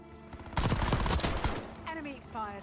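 A rapid burst of video-game gunfire from the hip rattles for about a second, then someone speaks.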